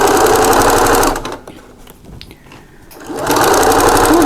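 A sewing machine back-stitches a wallet seam in fast, loud, close whirring bursts, stopping briefly in the middle and then resuming, with no voices.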